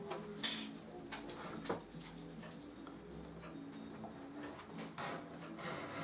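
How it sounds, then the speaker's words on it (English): A number two edge beveler cuts along the outer edge of a leather knife sheath from the corner onward, giving a series of close, dry scraping ticks and short rasps with a steady, uneven rhythm, no talk over it. "I bevel the edges on the outside of the sheath, and going right from the corner"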